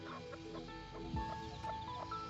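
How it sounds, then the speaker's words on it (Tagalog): Newborn chicks peep and chickens cluck on a farm, a busy layered chorus of high cheeping with soft clucks underneath, continuous and fairly close. "Ayan, mga bago pong sisiw."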